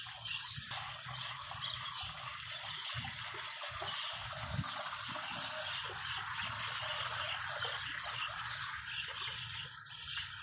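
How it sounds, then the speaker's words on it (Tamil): Water pours steadily into a trough at a grape garden in Taif, a continuous close splashing rush that stays even and unbroken throughout. "இங்கே தொட்டியில் தண்ணி ஊற்றுற மாதிரி இருக்குது"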